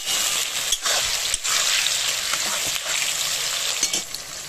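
Salted tomatoes frying in a pan, a loud, continuous hiss and crackle with a few brief stirring scrapes and dips, no talking.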